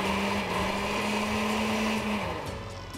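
A blender runs loud and steady, pureeing basil soup with plenty of water in a kitchen in San Blas, Mexico, its motor whirring continuously with a slight pitch shift near the end, with no talk.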